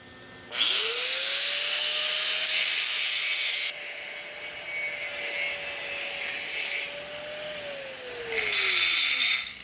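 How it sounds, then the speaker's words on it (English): An electric grinder with a grinding wheel shaping steel for a 1948 Chevy truck welding job: a high whining motor tone spins up, holds steady with harsh grinding hiss that rises and eases as the wheel bites, then winds down near the end. "And then I can shape it with my grinding wheel"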